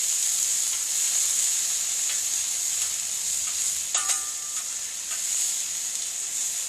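Shrimp fry on a hot BBQ griddle for shrimp fried rice, a constant loud sizzle with a brief metallic scrape of a spatula partway through.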